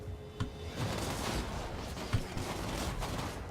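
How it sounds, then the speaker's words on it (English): Repeated rifle volleys from Empire outriders' repeating rifles in Total War: Warhammer, a dense battle din of overlapping gunfire with a few sharper cracks standing out, steady and continuous. "They got those repeating rifles."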